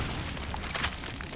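A barrel explodes in the video game Cronos: The New Dawn, a short dull boom with a brief burst of noise over steady background game sound.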